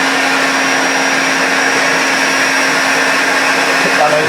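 Loud, steady whine of a Hoover Constellation vacuum cleaner running at full suction, a constant close drone with a sustained hum and hiss that stays unchanged from start to finish.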